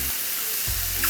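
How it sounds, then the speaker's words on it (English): Chicken frying without oil in a Saladmaster pan makes a brief, dense, loud sizzle that holds steady throughout, with no voices. "frying"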